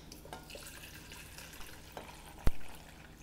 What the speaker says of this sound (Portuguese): vou aqui colocar a água